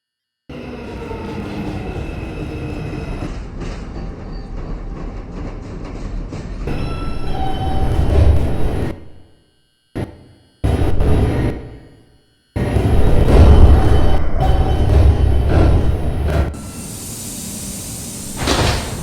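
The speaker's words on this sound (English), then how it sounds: "There is a train approaching the station." A New York City 2 subway train pulls into Beverly Road station in Brooklyn with a loud, steady rumble of wheels and cars, then a brief break and a few cut-off bursts before the roar returns and settles.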